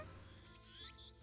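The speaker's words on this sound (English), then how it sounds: "I can hear the chirping of cicadas from the few trees" Cicadas buzz in the few trees near a shrine, a steady faint insect drone with a rising shrill whine.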